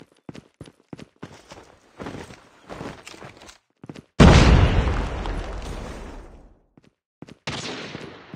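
A frag grenade explosion in Call of Duty Mobile, preceded by a series of sharp gunfire cracks; one loud boom that decays over about two seconds, then a short burst of gunfire.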